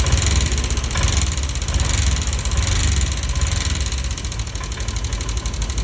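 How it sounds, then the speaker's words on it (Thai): A car engine with a fault code 8 idles loudly and unevenly, a steady rumble with a faint knocking roughness, close up and continuous throughout. "นี่เสียงนะเครื่องยนต์เริ่มไม่ไหวแล้วนะครับ"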